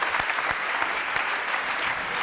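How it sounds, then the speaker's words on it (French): Studio audience on a French TV game show breaks into steady, dense applause, loud and continuous with a few sharper claps standing out, no voices over it. "Merci, applaudissements"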